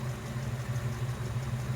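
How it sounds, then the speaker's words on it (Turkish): Jeep ZJ with a 5.2 V8 idling steadily near the ten-minute mark, a low, even rumble with a continuous hum and no other sounds. "Onuncu dakikaya yaklaştığımızda motorun sesi bu şekilde."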